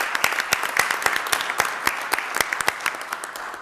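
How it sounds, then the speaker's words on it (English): Scattered applause from a modest audience at a city council meeting, with distinct individual claps standing out clearly rather than merging into a roar, steady for a few seconds and then gradually thinning. "So let's give them a big round of applause."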